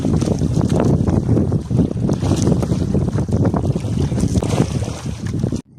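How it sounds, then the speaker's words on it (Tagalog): Loud, strong wind roaring and battering the microphone nonstop, a dense low rumble with gusty surges over what sounds like open water. "Malakas ang hangin mga idol."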